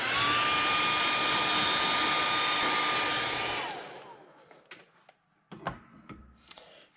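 A hair dryer blows loudly and steadily, heat-setting fresh airbrushed paint on a crawfish fishing lure, then cuts off near the four-second mark, leaving faint handling clicks and taps.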